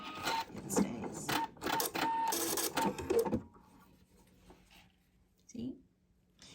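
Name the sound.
sewing machine stitching zigzag stitches on bra strapping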